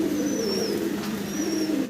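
A pair of owl pigeons coo in low, steady, rolling murmurs, close and fairly loud, with a couple of faint high chirps above and no speech.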